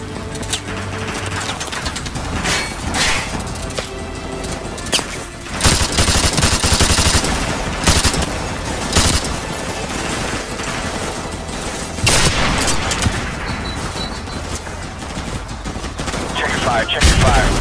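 Rapid bursts of automatic gunfire and loud booms from a realistic Call of Duty: Modern Warfare battle set in southern Russia, dense and continuous throughout, with voices talking over the shooting.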